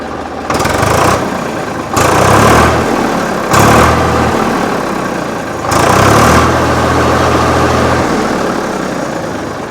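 A Swraj 855 tractor with an original Kirloskar engine runs close by, a loud diesel chug that swells in several revving bursts over a steady idle rumble, with no voices.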